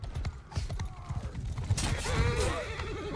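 Horse whinnying and hooves in the Mount & Blade II Bannerlord video game, a loud whinny late in the clip over scattered hoof thuds and clattering battle noise.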